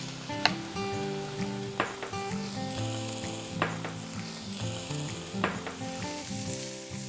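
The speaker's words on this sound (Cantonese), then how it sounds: "我哋而家要煎咗牛秋魚先，跟住可以落埋兩片薑一齊煎，要慢火喺度煎啲魚啦。" Fish frying slowly over low heat with a couple of ginger slices makes a close, steady sizzle, broken every second or two by sharp clacks of a utensil stirring in the pan, with no speech.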